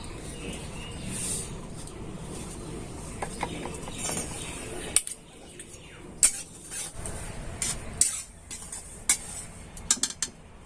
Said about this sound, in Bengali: এবার আমি সুজিটাকে হালকা ভেজে নেব।